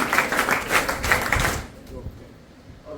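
A group claps briefly at a women's college sports and cultural activities inauguration, a short burst of loud applause that stops after about a second and a half, leaving quiet room tone.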